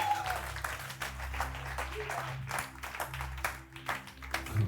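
Church congregation applauding and acclaiming the Lord during a Sunday service, a sustained mass of clapping with crowd voices and a low musical drone continuing underneath throughout.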